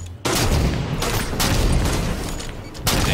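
Gunfire erupts in a first-person shooter sniper duel, a loud blast followed by dense crackling shots and booming reports, ending with another sharp burst.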